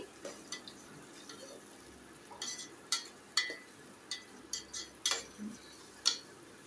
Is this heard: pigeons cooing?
no